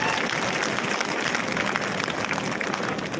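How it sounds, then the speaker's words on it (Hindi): An audience claps continuously at a Hindi poetry recital (kavi sammelan), a dense, steady wash of applause filling the whole moment at an even loudness. "ताली तो भी एक बार और बजनी चाहिए"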